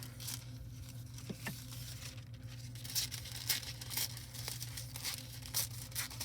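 Thin metallic stamping foil and its carrier sheet being handled, giving soft, close crinkling and crackling with a few sharper tearing rustles, quiet and without any talk.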